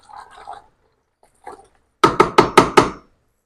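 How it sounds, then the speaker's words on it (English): A spoon stirs strawberry jam in a pot, giving five quick, evenly spaced knocking scrapes close by after a few soft earlier clatters. "we are going to give this a really good stir"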